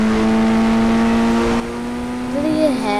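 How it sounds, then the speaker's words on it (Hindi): A Range Rover engine in a fan-made mobile GTA 5 game hums at a steady, loud pitch, then drops and lifts into a brief rev, with a person's voice talking over it. "range rover, wow"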